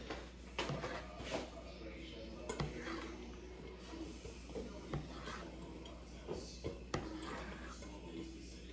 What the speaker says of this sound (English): So just going to stir this up a little bit.